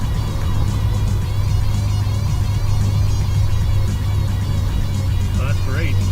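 C4 Corvette with new poly rear sway bar bushings driving over bumpy road, a steady low engine and road rumble throughout, interior perspective with no clunking audible, continuous and fairly loud.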